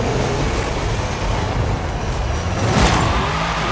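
A Toyota Land Cruiser Arctic Trucks AT37 drives in Forza Horizon 5, its engine giving a loud, continuous drone with road noise for the whole stretch.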